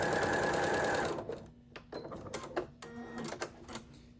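A sewing machine stitches a quarter-inch seam on quilted fabric, a dense continuous whir running for about a second before breaking into quieter stop-start clicks and short mechanical bursts.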